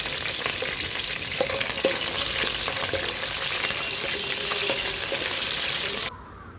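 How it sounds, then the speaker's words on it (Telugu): Green chillies frying in a pan, a dense loud crackling sizzle with light stirring scrapes that runs for about six seconds before cutting off abruptly. "ముందుగా పచ్చిమిర్చి వేసుకుని ఫ్రై చేసుకుంటే బాగుంటుంది"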